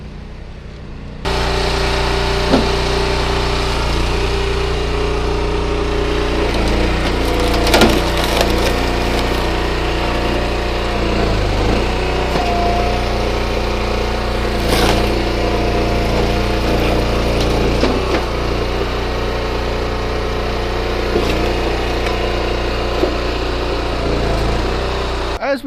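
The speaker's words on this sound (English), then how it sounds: "This machine, which everyone knows, we call a pad scraper." A pad scraper machine runs steadily at the NAMPO farm show with a continuous engine drone. It holds constant and fairly loud for the whole stretch, with scattered clanks and knocks over the top.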